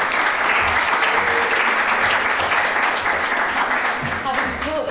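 Dense, sustained applause from an audience at a lecture event, welcoming a speaker to the stage; loud and steady throughout, tapering slightly near the end.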